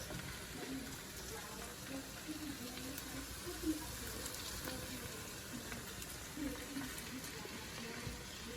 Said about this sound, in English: And it's really frying real good. This takes away all the slimy out of the okra.